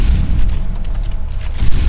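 Shotgun blasts in the Quake 4 shooter game, loud booming shots with dense low rumble, two or three heavy reports spread across a short burst of combat noise.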